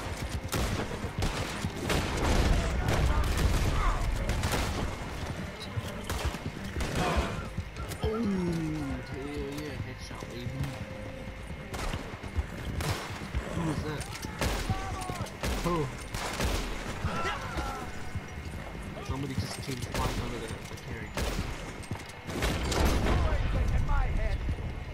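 Scattered gunshots in the Western game Red Dead Online ring out over galloping horses' hoofbeats and whinnies, while several people talk and shout throughout.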